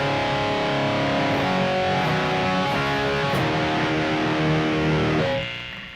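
An electric guitar runs through the BOSS eBand distortion effect, giving a loud, continuous buzzing sustained tone that holds for several seconds before trailing off near the end.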